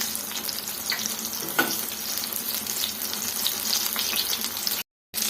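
Ridge gourd bajji fry in hot oil with a steady, close, full sizzle and crackle, loud and continuous until a brief sharp cut to silence near the end.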